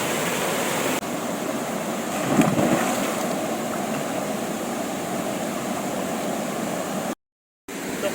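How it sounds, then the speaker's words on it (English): Steady rushing water of the Saleli waterfall in Sattari, Goa, a dense broadband roar filling the whole clip at close range, with a brief dropout near the end and no talk. "So we will enjoy the waterfall."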